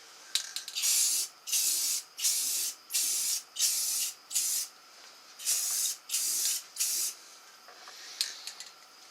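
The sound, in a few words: spraying clear Rust-Oleum enamel paint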